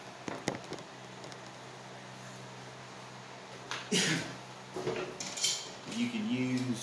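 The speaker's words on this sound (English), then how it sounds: "we're going to loosen this lock nut so that we can unscrew the cylinder" Adjustable wrench working a lock nut on a Graco 390 ST airless paint sprayer pump, scattered metallic clinks and scrapes at close range, with a few louder grinding bursts near the end.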